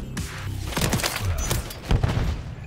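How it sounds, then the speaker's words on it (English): Marksman rifle gunfire in Call of Duty MW3 comes as a quick burst of sharp, booming shots in close succession, loud and close, with no talk over it. "Try to get quick scopes with a marksman rifle that gets hit markers."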